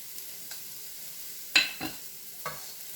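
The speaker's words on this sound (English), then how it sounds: "Get them onions, start sauteing up." Onions sautéing in butter in a pan, a faint steady sizzle punctuated by a few distinct stirring scrapes and clinks, close and quiet with no talking.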